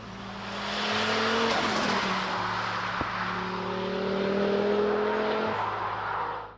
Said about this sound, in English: it's the sound of the 5-cylinder engine that truly captures the essence of driving this car.